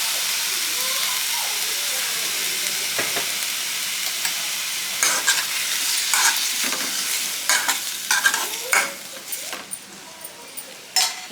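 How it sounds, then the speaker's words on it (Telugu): Tomato pieces fry in oil in a kadai for a Telugu tomato-coriander chutney, giving a steady sizzle and hiss with spoon stirring and scraping that grow busier toward the end, without voices. "ఇప్పుడు ఇదే కడాయిలో కట్ చేసి పెట్టుకునే టమాటా ముక్కలు వేసుకుందాం"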